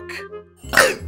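A brief rough burp followed by a louder, abrupt bark-like burp, both short and close.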